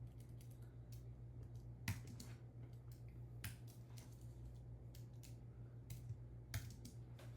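Keys tapped on a computer keyboard in short, irregular bursts, quiet and close, over a steady low electrical hum, with no talking.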